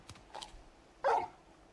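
A dog barks once, short and fairly close, in the Final Fantasy XVI video game, after some faint soft clicks and scuffs.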